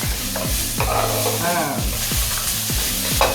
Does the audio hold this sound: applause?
no